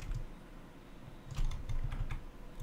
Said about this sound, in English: let's just type WF